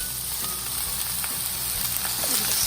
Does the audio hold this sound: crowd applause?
no